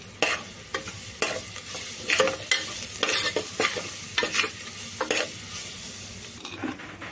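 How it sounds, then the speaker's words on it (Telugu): Turmeric being stirred into a frying mixture of crushed ginger-garlic paste in a pan, with repeated scraping spoon strokes over a steady close sizzle and no talking. "కొద్దిగా పసుపు వేసి కలుపుకోవాలి"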